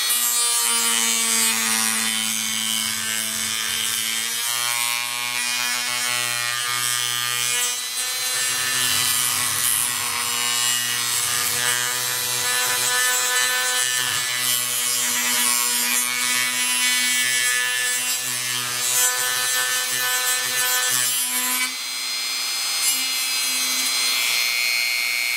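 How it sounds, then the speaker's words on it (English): An XL motor part ground down by hand, giving a steady, loud, close rasping grind with a sustained tonal whine that continues without a break for the whole stretch, shifting slightly in pitch. "I'm still going to grind down 2 more in real time"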